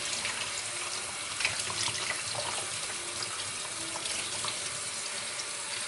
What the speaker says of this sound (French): Et je vais mettre de l'eau tiède pour la retrouver là. Pour bien laver maintenant.